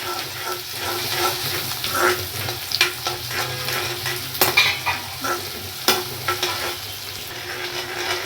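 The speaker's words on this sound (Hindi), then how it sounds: "इसको गोल्डन ब्राउन होने तक फ्राई करेंगे प्याज को" Chopped onion fries in a pan toward golden brown, a steady sizzle broken by scattered clinks and scrapes of stirring, close and moderately loud with no talking.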